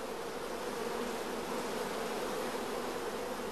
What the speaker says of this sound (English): in the queenless starter colony, we can hear the loud buzzing of the orphan bees